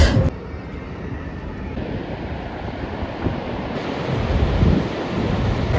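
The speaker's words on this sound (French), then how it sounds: "Au revoir les chutes du Niagara." Niagara Falls as a broad, constant low roar of falling water mixed with wind buffeting the microphone, steady and loud throughout with no voices.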